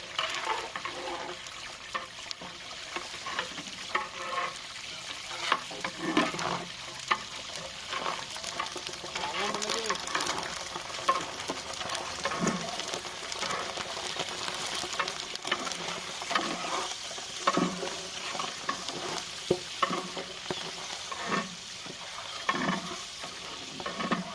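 About 1.5 kg of chillies frying in a large pot over a wood fire for veg pulao, giving a steady loud sizzle with scraping stir strokes throughout.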